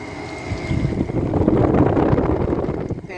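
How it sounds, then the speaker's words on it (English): The fan motor of a low-end Fedders window air conditioner runs with a loud, steady, rushing whoosh, close to the microphone and without speech. "Fan motor has some weird sounds to it."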